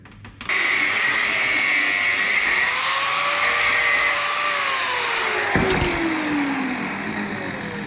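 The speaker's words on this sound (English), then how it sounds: "With the grinder." An angle grinder works on the wishbone of a 1932 Ford frame, spinning up abruptly and then holding a loud, steady whine with a slowly shifting pitch before easing slightly toward the end.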